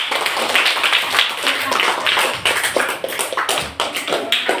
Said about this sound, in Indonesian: Tepuk tangan dulu biar semangat.